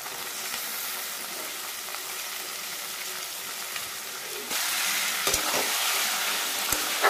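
Pieces of Bombay duck fish in masala with ground spices and chopped tomato sizzle in a pan while being stirred. The frying hiss is steady and gets louder partway through, with a few sharp scrapes and clinks and no talk.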